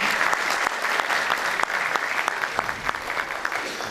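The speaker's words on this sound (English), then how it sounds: "A big applause to them as well." Loud, sustained applause from an audience at a national public speaking contest, dense clapping that carries on without pause.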